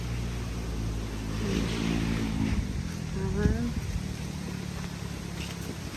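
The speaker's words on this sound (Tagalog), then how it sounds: "umaandar na sasakyan sa labas kasi medyo malapit tayo sa" Vehicles rumble past on a nearby road by a campsite in Tagaytay, a continuous low traffic drone rising and falling, with a voice speaking over it.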